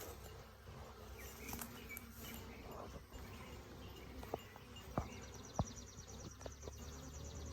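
A swarm of honeybees on a farm, a faint continuous buzzing hum with occasional sharp clicks and knocks, no talking.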